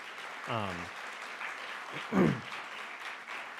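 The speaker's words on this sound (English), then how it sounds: "I think actually deserves a round of applause from this group" A conference audience gives a round of applause, heard as a soft, steady wash of clapping through the whole stretch, with a brief voice sounding near the start.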